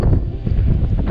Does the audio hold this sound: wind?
yes